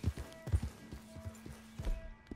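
Rhythmic hoofbeats of a horse in the video game Red Dead Redemption 2 clop in a quick galloping pattern, soft and steady, with a faint tonal hum underneath.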